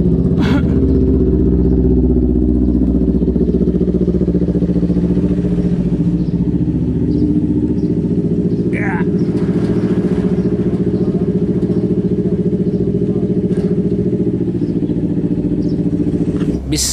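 A Yamaha Fazzio 125 scooter engine runs steadily while riding, a loud continuous mid-pitched drone with wind rumble and occasional clatter, close to the listener.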